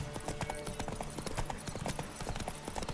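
Horse hooves clip-clop in steady, even rhythm through The Witcher 3 game, close and fairly quiet under a faint bed of ambient sound.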